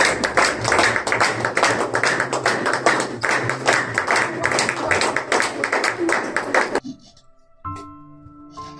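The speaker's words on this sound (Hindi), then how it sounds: "सबकी मजबूत तालियों में" A church congregation clapping strongly during a sermon, dense rhythmic claps filling the first seven seconds before cutting off, followed by a brief faint tone.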